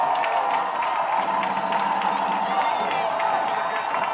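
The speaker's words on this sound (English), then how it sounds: "Aquinas crowd making a lot of noise" At a Friday night high school football game, the Aquinas crowd roars with cheering, clapping and whoops, a dense continuous wash of noise beneath a commentator talking over it.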